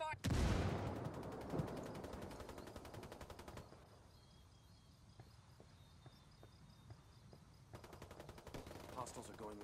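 Rapid bursts of automatic gunfire crackle loudly in a Ghost Recon Wildlands PvP match, then thin out to scattered single shots and short volleys, with game-style explosions and effects.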